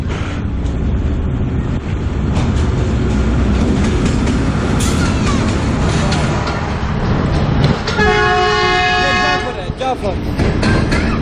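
The Jaffar Express passenger train rolls past at close range, its loud rumble and clattering wheels filling the air, with a horn sounding near the end and people talking around it.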